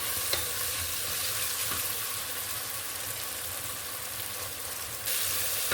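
Tomatoes with salt frying in a pan, a steady, even sizzle throughout with a few faint stirring clicks, close and moderately quiet, no talking.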